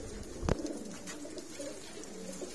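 Pigeons coo faintly at a breeding and racing loft in Faisalabad, low soft calls against a quiet background with one brief louder knock early on.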